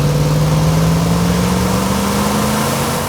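A Toyota 4Runner's 4.7-litre V8 runs in a steady, loud, continuous drone whose pitch climbs slowly as the engine revs, with no voices over it.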